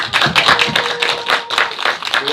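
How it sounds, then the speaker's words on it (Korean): At a debate forum on state history textbooks, a room audience breaks into loud, uneven clapping. Bursts of hands rise and fall over a couple of seconds, and a faint tonal murmur runs underneath. "진짜 박수 한번 드리고."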